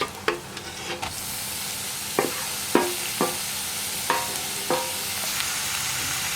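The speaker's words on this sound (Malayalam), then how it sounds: "നമുക്ക് ഇതിലേക്ക് ഗ്രേറ്റ് ചെയ്ത് വെച്ചിരിക്കുന്ന ബീട്രൂട്ട് ചേർക്കാം." Grated beetroot gets stirred into frying onions in a pan, bringing a steady low sizzle punctuated by several sharp spoon scrapes and clinks at irregular intervals, close and clear with no talking.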